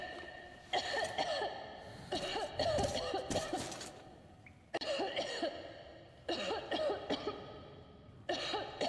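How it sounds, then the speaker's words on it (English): A person coughs and clears their throat in the Metro Exodus video game, several short harsh bursts in separate clusters with pauses between them. "Can you look away when you're coughing, please?"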